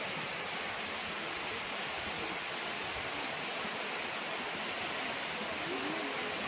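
A waterfall with a low flow of water, on a solo bike trip from Chennai to Chikmagalur, gives a steady broad rushing hiss that stays loud and even throughout with no clear breaks.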